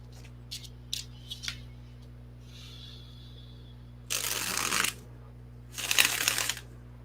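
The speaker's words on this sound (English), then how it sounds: "Okay, shuffling, shuffling, shuffling." Tarot cards are shuffled nearby in two quick riffled bursts, preceded by a few light taps and clicks of handling the deck.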